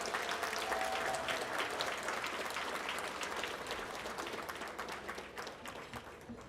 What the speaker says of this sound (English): I'd like for us to give these waitress and waiters a big round of applause.